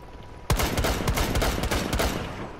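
Rapid automatic MP5 fire in the Rainbow Six Siege shooter game, a sudden close burst of sharp repeated shots lasting about two seconds before trailing off, with no talking.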